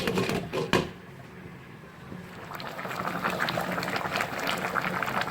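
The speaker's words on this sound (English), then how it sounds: "So once everything is been added inside the pot, I'm just going to cover it and let it cook." Cameroonian spicy black sauce (mbongo chopi) seasoned with Maggi cubes simmers in a covered pot, giving a steady, soft bubbling hiss after a couple of brief knocks near the start.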